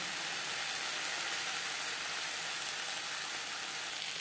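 Fish and eggplant cooking together in a pan give a steady, even hiss of sizzling oil, continuous and fairly close with no talk.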